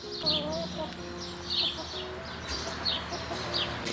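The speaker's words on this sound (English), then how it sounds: "These chickens seem nice." Several chickens cluck repeatedly in short, moderately loud bursts at a farm, spaced through the clip over a steady low background hum.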